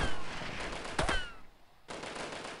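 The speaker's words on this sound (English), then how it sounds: "Now, who's shooting at me, I wonder?" Gunfire in the Delta Force video game, a loud rapid volley of shots with sharp cracks near the one-second mark, then a brief lull before more firing resumes.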